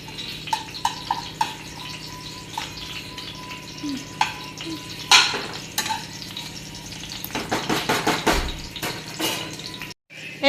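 Garlic for noodles sizzles and fries in a pan while being stirred, with a steady crackle broken by sharp scraping and clinking of the utensil against the pan, growing busier toward the end.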